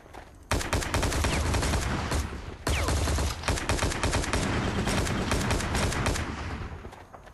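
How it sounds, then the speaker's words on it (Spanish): Loud explosions and rapid gunfire in the video game WAR Inc. Battlezone crackle in dense bursts, with a brief lull before the barrage resumes and carries on steadily. "Parece que son explosiones o algo así."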